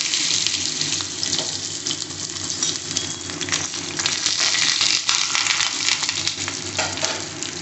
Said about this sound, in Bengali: ফার্স্টে আলুগুলো ভেজে নিচ্ছি।